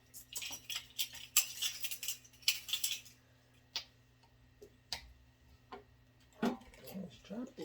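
A tablespoon handled among kitchen utensils, with clustered metallic clinks and scrapes early on, then scattered sharp single taps and rattles, close and moderately quiet, with a little talk near the end.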